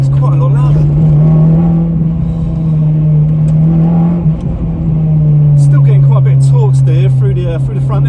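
A Honda Civic Type R with a swapped K24 engine, heard from inside while driving as a loud, steady engine drone that dips briefly midway, with a person talking over it.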